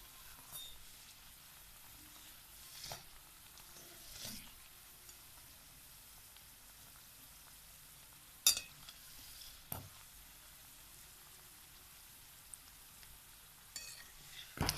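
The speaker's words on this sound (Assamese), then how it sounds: "এয়া মই এতিয়া লাহে লাহে ভাজিছোঁ।" Samosas frying slowly in oil on low heat, a faint steady sizzle close by, broken by a few sharp clicks and scrapes of a utensil turning them, with no talking.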